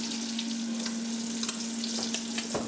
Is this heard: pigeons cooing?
no